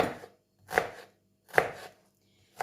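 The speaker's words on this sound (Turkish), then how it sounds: "Ondan dolayı elle doğramak istedim arkadaşlar. Sonra gene bir bıçak üstünden geçeceğim" Knife chopping içli köfte ingredients by hand on a board: four crisp, close chops spaced under a second apart, each with a short scraping tail, with no voices.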